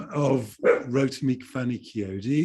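A dog barks in the background during a conversational talk in London, a few yaps mixed in with a man's steady speech that dominates throughout.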